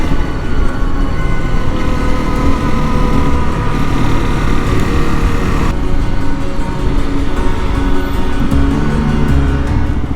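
Honda CRF Rally motorcycle, its engine derived from a street 250, cruising down a highway off-ramp: a loud, steady drone of engine and wind noise running continuously without letup.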